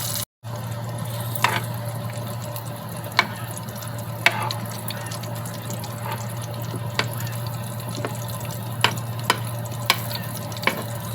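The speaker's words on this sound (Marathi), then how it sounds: "बारीक गॅसवर फ्राय करून घेते कारली" Stuffed bitter gourds fry gently in a pan over a low flame, giving a soft, steady sizzle with occasional sharp pops and crackles spaced every second or two, with no talking.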